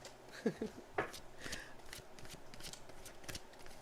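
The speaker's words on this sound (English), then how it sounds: "I'll be over here shuffling and preparing for the love and friendship right now." Soft shuffling and riffling of tarot cards close by, with a few crisp snaps early on and quiet handling throughout.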